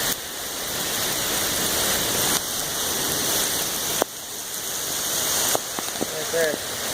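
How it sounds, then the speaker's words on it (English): Heavy rain from a huge thunderstorm pours in a dense, steady hiss, with a few abrupt shifts in intensity and brief faint voices near the end. "there's a huge rain cloud storm coming."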